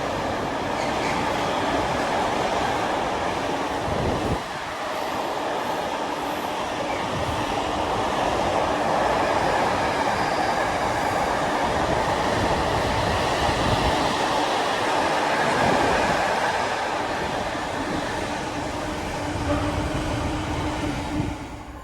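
A Class 66 diesel freight train on a UK line rolls past nearby with a continuous heavy rumble and rattle of wagons that holds steady for the whole stretch, and no talking.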